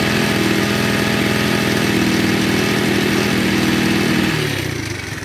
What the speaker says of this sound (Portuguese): A corrente de comando dessa moto está gasta.